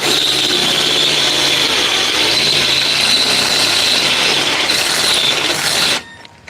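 A Milwaukee cordless drill fitted with the wrong bit bores through metal on an electric bike, a loud, steady high-pitched whine with grinding that runs unbroken for six seconds before cutting off abruptly.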